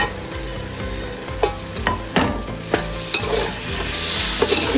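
Tomato, cilantro and mint frying in a pan for chicken dum biryani, a steady close sizzle with several sharp stirring scrapes and clinks of a utensil, no talk.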